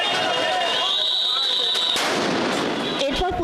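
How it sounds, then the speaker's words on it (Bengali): Police sound grenades go off at a teachers' protest march, sharp booming bursts over a noisy crowd with a whistling, ringing tone, heard from mid-distance amid the commotion. "এরই মধ্যে সাউন্ড গ্রেনেড মারা ও লাঠিচার্জ শুরু করে পুলিশ।"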